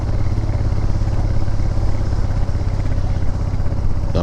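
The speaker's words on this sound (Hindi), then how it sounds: "जहाँ पे आ जाती है चढ़ाई, जैसे अब ये आ गई, यहाँ देखना अब आप आवाज़ भी सुनना।" Motorcycle engine labouring up a steep mountain road beside the Sutlej river, a loud, steady drone with rough low-end rumble and mechanical clatter held close throughout, no voices.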